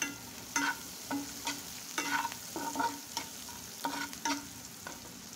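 Onion, garlic, green chili and cumin frying in a pan, a steady close sizzle broken by repeated scraping strokes of a spatula stirring, with no talk.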